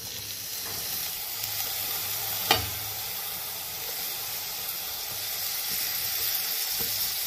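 Cloves and rice being sautéed in a pan for traditional sweet coconut rice, giving a continuous soft hiss and sizzle with a single brief stir or scrape midway, close and without talk.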